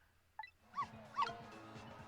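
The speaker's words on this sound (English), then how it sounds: "Can't you bark any louder than that?" A small dog in the video game Ghost Trick gives two short, thin yips about half a second apart, fairly quiet over a soft musical background, preceded by a brief tiny squeak.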